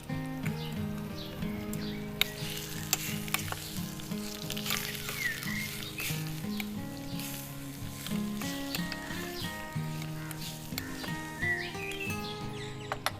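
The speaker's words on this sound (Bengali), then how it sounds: "এবার আমি এর মধ্যে চিকেনটা দিয়ে দিচ্ছি। এবার এটাকে ভালো করে নেড়ে রেখে দেবো।" Chicken sizzling steadily in a mini kitchen pan, a continuous close frying crackle with occasional sharp ticks from stirring, a soft tonal hum underneath, no talk.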